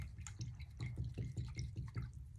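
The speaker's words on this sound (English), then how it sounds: "I'm gonna rinse out my brush" Paintbrush swished and rinsed in a water cup, giving a run of small splashy drips and sloshes at a steady rhythm, close and fairly quiet with no talking.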